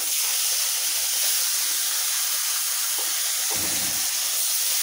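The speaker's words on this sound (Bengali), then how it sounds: "এখন আমি এখানে একে একে সবগুলো মাছ ভেজে নেব।" Katla fish frying in hot oil in a wok, a steady loud hiss and sizzle running throughout with a couple of brief low thuds near the end.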